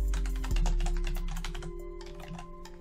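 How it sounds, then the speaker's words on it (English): Fast, steady typing on a computer keyboard, close and clear, a continuous stream of key clicks over a low hum. "I'm going to type in required generation down here."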